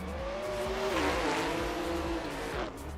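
Drift cars battling at a competition, a Toyota Supra and a Ford Mustang, roar with strained engines and long, wavering tire squeal that swells and fades across a few seconds, loud and continuous.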